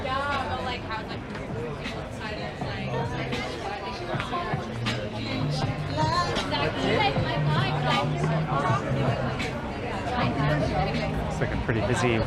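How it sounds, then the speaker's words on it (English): Evening crowd chatter in front of a busy wine bar on Ossington Street, Toronto: a steady babble of many overlapping voices and laughter close by, continuous throughout, with street ambience underneath. "There's a fair-sized crowd in front of this place coming up."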